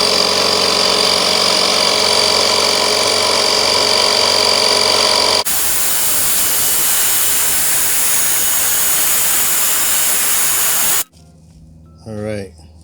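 A VacLife portable tire inflator running at a steady, loud, buzzing drone while pumping air into a car tire, then a change to a rushing hiss, then a brief spoken voice near the end.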